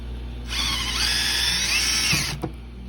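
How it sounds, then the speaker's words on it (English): A power drill with a 5/16 bit whines close by as it bores a hole, spinning up sharply, holding a steady high whir for about two seconds, then stopping with a brief clunk. "And always drill to the inside of the template."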